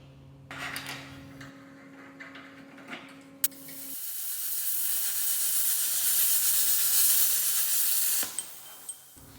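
A Miller Spectrum 375 plasma cutter slicing through 1/4 inch metal gives a sustained, bright hiss lasting several seconds, preceded by a low machine hum and a sharp click, then ending abruptly with a few ticks.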